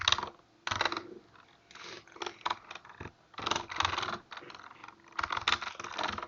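Rapid bursts of computer keyboard typing, close and clicky, with uneven clusters of keystrokes separated by short pauses.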